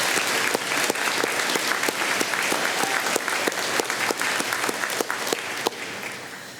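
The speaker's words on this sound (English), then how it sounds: "A round of applause for the academic and staff team," A large university convocation audience applauds steadily, a dense, even wash of clapping that holds for several seconds without voices on top.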